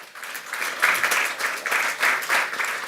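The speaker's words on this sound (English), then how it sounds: "A round of applause." An audience breaks into a short burst of applause after a fireside chat talk, dense clapping swelling in soft waves for a few seconds without any voice over it.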